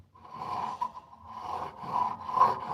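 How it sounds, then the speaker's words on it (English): Chisel bevel being reestablished on a sharpening stone, a faint, steady rubbing and rasping of steel stroked back and forth in slow repeated passes. "We're in here reestablishing our bevel on our chisel."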